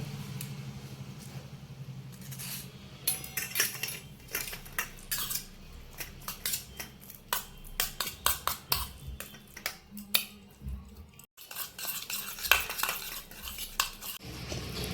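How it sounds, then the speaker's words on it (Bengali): Strained sour yogurt for sweet mishti doi is whisked in a bowl. Quick, uneven clinking and scraping strokes of the utensil come close up, with no talking. "টক দইটা ফেটিয়ে নেবো"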